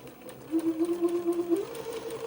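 Sewing machine stitching the second pass of a French seam on batiste fabric for a sundress, a fast even rhythmic hum with regular pulses for about a second, close and clear.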